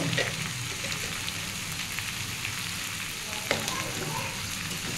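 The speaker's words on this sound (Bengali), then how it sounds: "বন্ধুরা একটু ভালো করে আমি কষে নেব" Drumstick stems and a fish head sauté in a pan for a Bengali chachchori, giving a steady close sizzle with faint stirring scrapes throughout, and no one talks.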